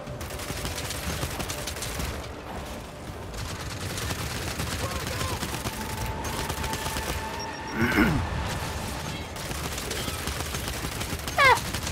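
Enemy gunfire rattles through the shooter game Gears 5 as dense, continuous rapid fire across the whole stretch, with a heavier burst near the middle and mixed game sounds throughout.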